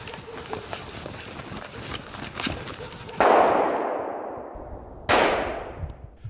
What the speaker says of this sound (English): Shots ring out and all falls silent